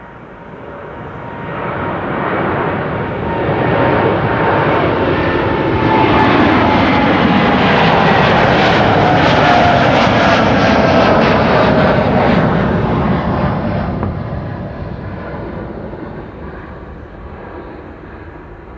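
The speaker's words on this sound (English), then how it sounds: "KLM flight 677 to Calgary. That's 7879 Dreamliner Papa Hotel, Bravo Hotel Mike" KLM Boeing 787-9 Dreamliner departing Amsterdam Schiphol, its jet engines swelling from a distant rumble to a loud, sustained roar near the middle, then slowly fading away as it climbs out.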